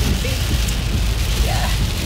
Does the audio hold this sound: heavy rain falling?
yes